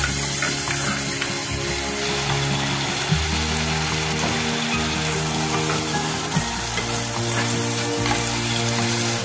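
Mackerel fish curry with kudampuli and its soaking water simmers and sizzles steadily in a pan while it is stirred, with a low tonal hum underneath and no talking.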